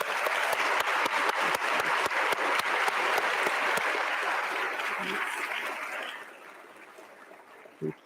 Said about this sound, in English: Please applaud and express your gratitude to those surrounding you